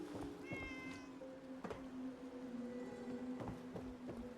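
A cat in Fallout 4 lets out a long, drawn-out meow that rises and holds, quiet and steady, followed by a second shorter yowl under faint background clicks, with no talking.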